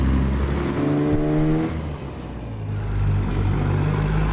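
A heavily loaded grain truck in American Truck Simulator rumbles loudly at low speed while reversing, its diesel engine droning steadily with a brief dip in revs before settling back into a deep idle-like hum.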